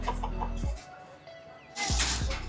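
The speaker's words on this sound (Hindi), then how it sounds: "यहाँ पे आपको बहुत सारे मुर्गे वगैरह भी देखने को मिल जाएंगे, मुर्गे मुर्गियाँ" Chickens, hens and roosters at a farm near Gurgaon, clucking loudly in two bursts separated by a quieter stretch, heard close with no talk.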